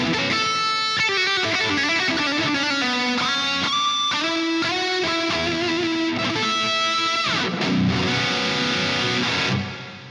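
Crunchy distorted electric guitar chords and melodic runs pass through a chamber reverb on a Two Notes Torpedo Captor X 16-ohm, sustained and loud throughout, ending with a ringing chord that fades.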